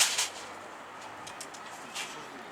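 A hungry pigeon, a fancier's bird that had flown off for two days, gives faint, brief cooing calls in a quiet space, with a few soft higher chirps scattered through.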